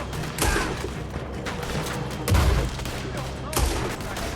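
Gunfight in Red Dead Redemption 2 with shotgun and revolver fire, three loud shots spaced through the clip over a dense, busy game soundscape.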